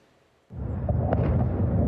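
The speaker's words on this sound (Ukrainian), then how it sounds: "Лунають вибухи та вия сирена повітряної тривоги." An explosion in Belgorod: a sudden deep booming blast breaks a near-silence and rolls on as a loud sustained low rumble.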